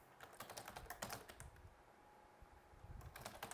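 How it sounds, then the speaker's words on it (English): Rapid, uneven keystrokes on a computer keyboard during setup of a ConfigMgr client, clicking close and crisp in short bursts with brief pauses and no talking. "Type in the box, Steve."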